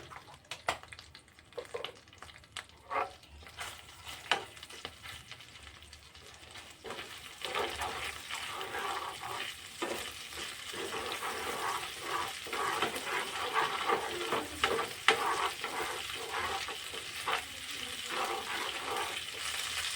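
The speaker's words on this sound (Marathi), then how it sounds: "आपलं चांगलं वितळलेलं आहे त्यामध्ये थोडीशी अद्रक लसणची पेस्ट" Ginger-garlic paste goes into melted butter in a pan and starts to fry, a soft crackle that grows into a steady, hissing sizzle and keeps up to the end.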